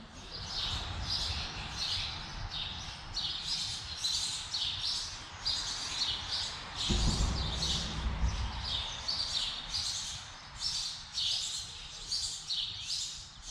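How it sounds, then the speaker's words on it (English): Small birds chirp and tweet continuously beside a creek, their quick repeated high calls carrying from a moderate distance over a soft steady outdoor hiss. "I love the sound of the birds."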